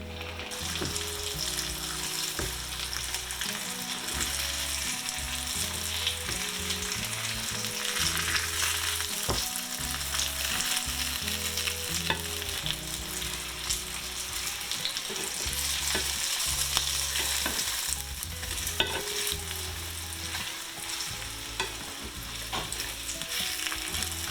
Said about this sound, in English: then flip them over and cook them until they're about a golden brown